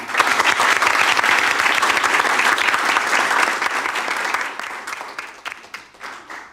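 Loud, dense crowd applause at an educational institution's 10th anniversary party, sustained and even for about four seconds before tapering into a sparser patter of individual claps.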